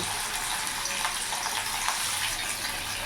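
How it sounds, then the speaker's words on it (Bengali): Katla fish frying in hot refined oil produces a dense, even crackling hiss, steady and close throughout, with no voices. "তেল গরম হয়ে গেছে, এবার মাছগুলো আমি দিয়ে দেবো।"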